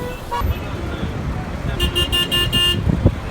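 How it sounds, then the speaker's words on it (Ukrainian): Several short taxi horn toots honk in quick succession over steady Tehran street traffic noise, with voices talking in the background. "Таксисти сигналять, заманюють людей."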